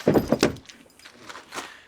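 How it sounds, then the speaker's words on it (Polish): Rear door of a damaged car imported from the USA being opened, a short close latch clunk followed by softer handling noises, with no talk. "możemy sobie otworzyć te drzwi"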